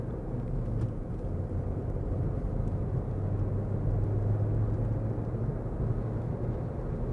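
A Suzuki Swift Sport fitted with KW suspension, driven at pace, gives a continuous low engine and road rumble with steady tyre noise, even and sustained from start to finish, with no speech.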